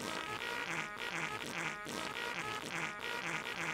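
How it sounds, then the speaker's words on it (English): A farting flugelhorn in the video game South Park: The Fractured But Whole plays a continuous, buzzy brassy blare with rhythmic pulsing swells, loud and unbroken with no talking. "You will listen to my fart sound."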